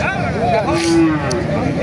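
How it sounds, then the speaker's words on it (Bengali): A cow lows at a cattle market in Ranisankail, Thakurgaon, a single close, loud moo amid crowd noise and people talking. "দর্শক দেখেন কত সুন্দর সুন্দর গরু"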